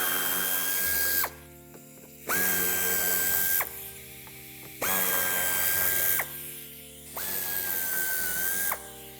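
A power tool unscrews Torx 25 screws from the wheel arch liner of a Volkswagen Tiguan, whirring in four bursts of about a second each with short pauses between them, close and loud.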